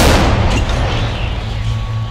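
A loud, close artillery gun blast at a frontline firing position opens the clip, followed by a long rumbling roar that slowly fades.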